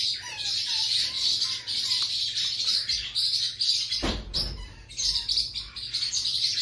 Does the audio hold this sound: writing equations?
no